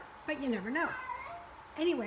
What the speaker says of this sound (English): That's the cat meowing in the background.